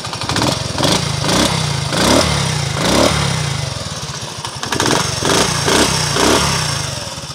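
A Honda CD80 motorcycle engine runs, throbbing steadily near and loud, with repeated revs rising and falling over the idle; no one speaks over it.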